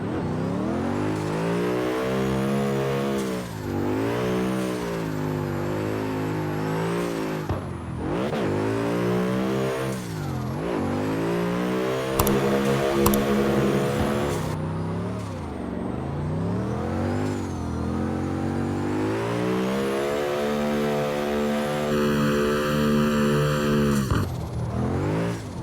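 A BMW M5 F90 engine revs hard while drifting in the CarX video game, loud and continuous, its pitch rising and falling in repeated sweeps as the throttle is worked through linked corners.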